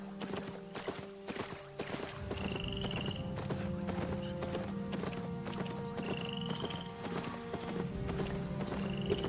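Donkey mount hooves clip-clopping steadily in the Albion Online video game, a continuous walking rhythm of hoof hits over layered game ambience and background tones, with no voices.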